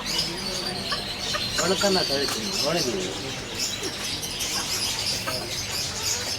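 Parrots gathered at Navaladi in Batticaloa give sharp chirps and squawks, clustered in the first half, over a steady outdoor hiss with faint background voices.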